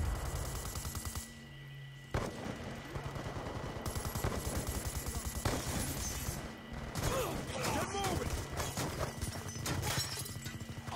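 An LMG machine gun in Black Ops 2 fires long rapid bursts on the Nuketown 2025 map, with dense rattling shots, brief pauses, shattering and mechanical clatter mixed in close by.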